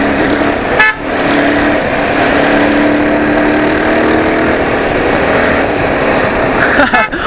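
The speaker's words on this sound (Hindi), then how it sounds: "देखिए कैसे लीन कर रहा है यसदी को लेके।" Yezdi adventure motorcycle ridden and leaned through a turn on a hill road: a continuous close engine hum with short horn toots near the start and end, and voices in the background.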